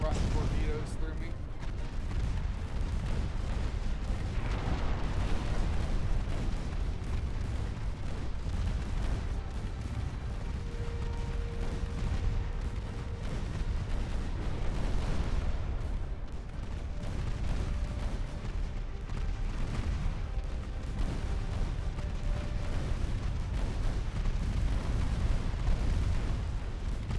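Torpedo detonations in the Ultimate Admiral Dreadnoughts naval battle game boom dully within a continuous, dense rumble of distant gunfire and explosions, with a voice heard over the din.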